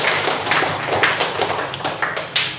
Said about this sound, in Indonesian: Tepuk tangan untuk Mbak Alfi.